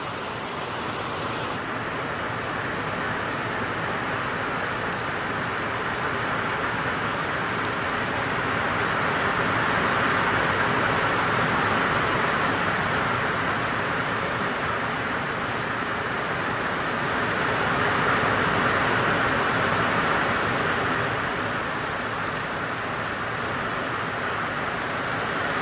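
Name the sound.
heavy downpour of rain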